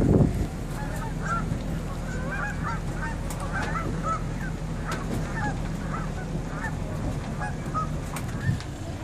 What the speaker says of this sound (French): Les bernaches, ce sont des oiseaux fidèles